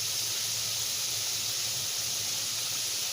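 A chicken thigh fries in hot oil in a frying pan, giving off a steady, close, unbroken sizzle and hiss with no one talking.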